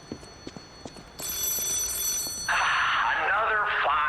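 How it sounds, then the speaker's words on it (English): A payphone rings in the horror video game Lies of P, a loud sustained electronic ring following a few soft footsteps, then a voice begins speaking over it. "Oh, this is the payphone."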